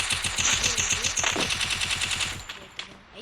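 An MP40 submachine gun fires in a video game, a rapid, loud burst of evenly spaced shots lasting about two seconds before cutting off, followed by a few faint clicks.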